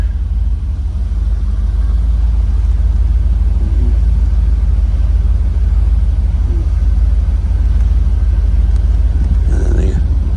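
An IROC Camaro G92 convertible with a 5-speed idles steadily after starting, a constant low rumbling engine drone heard close and loud for the whole stretch, with faint voices underneath.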